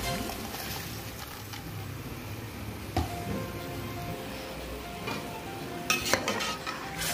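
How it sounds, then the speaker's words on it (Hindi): Rice tipped into a pot of boiling water with peas and spices, a continuous bubbling, churning wash of sound with a few sharp clinks and scrapes. "अब हम इसमें चावल शामिल करेंगे।"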